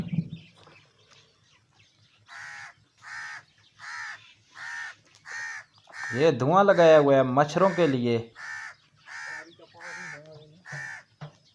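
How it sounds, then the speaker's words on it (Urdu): Crows caw in a Pakistani village among livestock and smoke, a regular series of harsh calls spaced about a second apart, with someone talking loudly over them partway through. "کوے نے بھی شور مچایا ہوا ہے۔"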